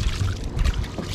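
A small traditional handline fishing boat heads out to sea on calm water. Hull wash and engine rumble run close and steady through a very short moment, and nobody speaks.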